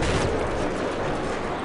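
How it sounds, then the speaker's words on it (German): Gunfire in the video game Battlefield 3 on the Caspian Border conquest map, a dense, loud burst of shots and explosive rumble filling the whole moment with no pause. "Ein Schuss."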